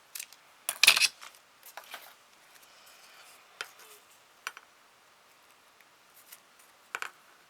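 Scissors snip through ribbon while making small transparent bags for mini albums, with several sharp close cuts in quick bursts followed by scattered quieter snips and light taps in a quiet room.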